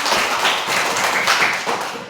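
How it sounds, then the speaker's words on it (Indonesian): Students in a classroom clap together, a dense burst of many hands lasting a couple of seconds, fairly loud and close, with no talking. "tepuk tangan untuk semua"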